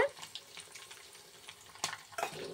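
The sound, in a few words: tempering spices frying in a pan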